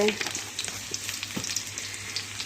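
Dried fish sizzles in a pan with oil, onion, garlic and ginger, a steady moderate hiss broken by scattered crackles and occasional soft clatter.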